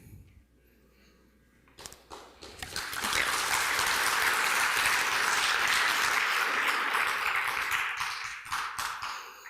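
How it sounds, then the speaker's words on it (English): An audience at a leadership exchange session bursts into applause after a quiet moment, the clapping swelling to a loud, sustained roar before tapering off. "you're more than welcome to hold your applause until the end"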